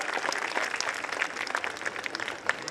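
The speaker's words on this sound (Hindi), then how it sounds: "तालियां बजती है प्लीज" Applause rises from the audience at a college annual function, a busy, even patter of many clapping hands at moderate loudness, sustained throughout with no talk over it.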